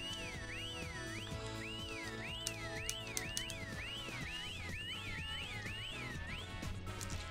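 A warbling, repeating electronic whistle from the Sonic Adventure DX video game rises and falls in steady loops over busy game music and effects, loud and continuous.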